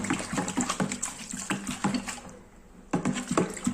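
Soap powder mixture being stirred in water, giving repeated liquid sloshing and scraping strokes at a steady rhythm, close and moderately loud, with a short pause before stirring resumes.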